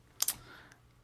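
A few quick computer keyboard keystrokes, entering text into a Keynote for iCloud slide in a web browser, sound as a short close cluster of clicks followed by quiet.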